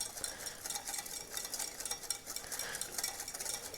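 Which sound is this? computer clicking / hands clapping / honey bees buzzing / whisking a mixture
whisking a mixture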